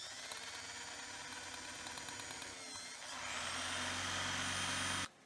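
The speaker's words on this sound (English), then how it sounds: "I need to try to drill it out." A small power drill bores out a metal pin holding a clutch arm on a cheap mini bike, a steady whining grind that rises in pitch and intensity partway through, then cuts off abruptly near the end.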